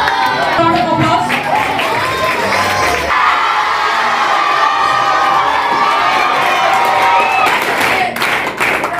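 A school audience at an investiture ceremony claps and cheers loudly, with children shouting and whooping in a sustained, close roar of applause.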